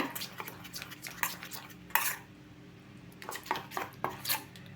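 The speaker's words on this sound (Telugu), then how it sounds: "ఇదిగోండి ఇట్లా అయితే కలిపి పెట్టుకోవాలండి" A spoon scrapes and clinks against a bowl while stirring a runny batter of maida flour, oil and salt for bakery-style egg puffs. Irregular close taps and swishes come in short bursts with brief pauses.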